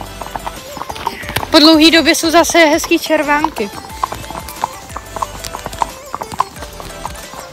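Horse hooves clip-clop at a slow, tired plod on an outdoor winter ride, with a short neigh near the start and people talking over the steady hoofbeats.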